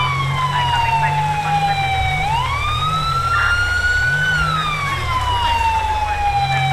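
Police car sirens wail continuously and loudly in a GTA V police-mod pursuit, the pitch sweeping up and down in slow cycles over a steady low engine rumble.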